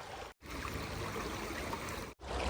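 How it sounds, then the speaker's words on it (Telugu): Water runs steadily down a hillside stream in the Korean mountains in winter, a continuous close broadband rush that stops briefly twice as if cut. "చూడండి, కొండలోంచి నీళ్ళు ఎంత బాగా పారుతున్నాయో"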